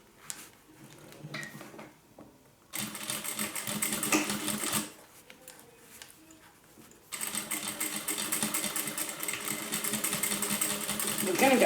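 A sewing machine stitches a crossbody handbag closed in two bursts of fast, even mechanical whirring, close and fairly loud, separated by a pause with quiet handling sounds.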